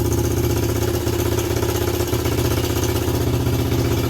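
A Suzuki LT125 ATV engine runs close and loud with a steady, even thrum, holding a constant pitch throughout with no clear gear changes and no voices.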